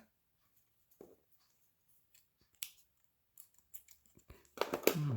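Crochet yarn being cut with scissors, a few faint, close snips separated by quiet pauses, followed by louder rustling handling noise at the end.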